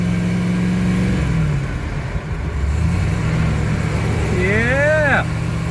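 A 1979 AMC AMX with a rebuilt 304 V8 and four-speed drives along, its engine droning steadily up close with a brief dip and rise in revs, while a voice speaks over it.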